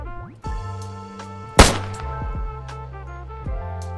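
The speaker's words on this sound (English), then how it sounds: "So it's going to be the pistol sound. Basically kind of like a gunfire sound." A pistol gunfire sound effect in a Scratch game fires as a single sharp, loud bang midway, over tonal game music with a few softer knocks.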